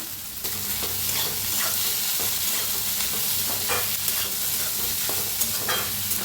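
Sabudana and rice dry-roasting in a pan for a fasting dish, stirred continuously, with a dense steady sizzle and repeated light scraping of the spoon across the pan, close and without talk.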